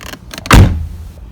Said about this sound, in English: I should be able to open the door